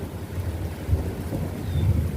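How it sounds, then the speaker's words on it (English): Low distant thunder rumbles through a thunderstorm with steady rain, swelling in soft rolls with no talk. "There goes some thunder right there."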